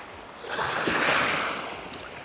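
Sea waves at Cabongaoan Beach in Burgos, Pangasinan, a broad surf wash that swells and subsides over a couple of seconds, close and steady with some wind noise, no voices.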